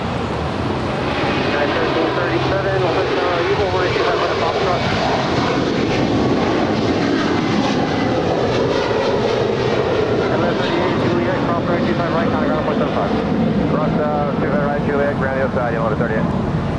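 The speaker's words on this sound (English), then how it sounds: "Qantas is now rolling on 25 right." A Qantas Airbus A330-200 heavy departing for Brisbane rolls for takeoff on runway 25 right at LAX, its engines a loud, steady roar lasting throughout, with radio chatter and voices talking over it.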